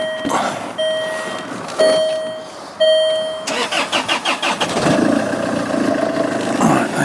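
A Land Rover Freelander 2 fitted with a new turbo intake duct cranks with a rapid rhythmic churn after a few warning chimes, then catches and settles into a loud, close, steady idle.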